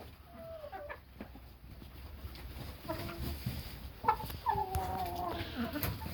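Several hens cluck and murmur around a simple feeder, with scattered short calls rising and overlapping, moderately close, amid soft farmyard background noise.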